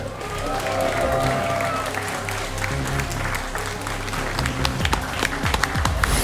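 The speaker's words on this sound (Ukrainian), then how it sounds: "Нагородіть його своїми щирими оваціями." Sustained applause from a crowd at a bare-knuckle fighting event, steady clapping throughout with some cheering and movement noise, close and fairly loud.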